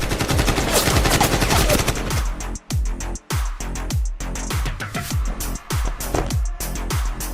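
Loud bursts of gunfire, rapid machine-gun rattles and single shots, used as a sound effect in a carpet advertisement, firing in dense volleys with two brief silent gaps.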